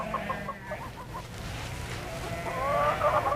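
Chickens bought from villagers cluck in a short run of repeated calls, fairly close and moderately loud over a low background rumble, with no talking.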